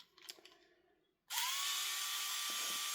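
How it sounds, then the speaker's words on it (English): An Aramax electric screwdriver backs out small 1.5 mm countersunk screws from an airsoft gun's barrel assembly, a close, loud, steady whine that starts abruptly after brief quiet handling noise and runs without pause. "the Aramax screwdriver is making very light work of this"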